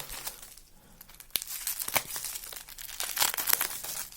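Taped parcel packaging is cut open, giving close, irregular crinkling and tearing noises with sharp rips and rustles of plastic wrap and tape.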